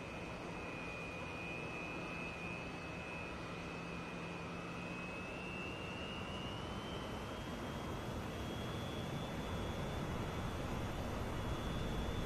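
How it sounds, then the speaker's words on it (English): Twin jet engines of an Su-27 at maximum thrust during takeoff in the DCS flight simulator, a steady loud roar with a whine that slowly rises in pitch. "increase the thrust of both engines to maximum"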